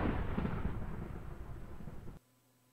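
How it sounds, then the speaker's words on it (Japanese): Thunder rumbles in a Minecraft horror adventure map, a loud, deep booming roll that fades over about two seconds and then cuts off abruptly into near silence. "雷聞こえたみたいな。"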